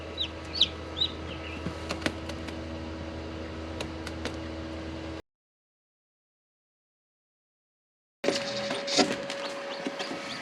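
A newly hatched baby chick in a warm, humid incubator gives small high peeps over a steady low hum, then a silent gap before more faint cheeping and rustling.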